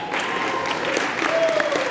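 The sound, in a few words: audience applause during speech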